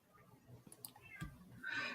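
A pet cat meows and screams in a couple of short, strained cries that swell into a louder, higher wail at the end, close by over a low room rumble.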